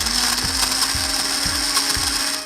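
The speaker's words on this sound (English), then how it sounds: "Here's a traditional blender." Traditional countertop blender running steadily at close range, a loud continuous whirring motor with a regular rhythmic clacking pulse about every half second, no voices.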